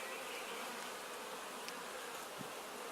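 Honeybee swarm buzzing as a dense, continuous hum of many bees, steady and fairly quiet, with no voices.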